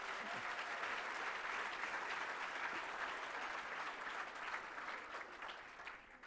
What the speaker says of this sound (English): Let's give NetSuite a round of applause.